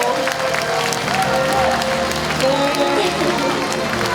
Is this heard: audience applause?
yes